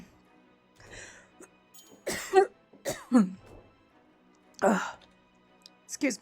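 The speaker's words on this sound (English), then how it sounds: "I had a coughing fit" A person has a coughing fit: several sharp, loud coughs and throat-clearing bursts come in irregular clusters, close to the microphone, with quiet breathing and faint sounds in between.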